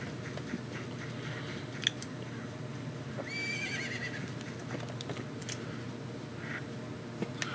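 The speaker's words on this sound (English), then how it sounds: "But look! Isn't that your horse?" A horse whinnies once in The Legend of Zelda: Majora's Mask, a brief rising neigh over steady game background sound, with a few sharp clicks around it.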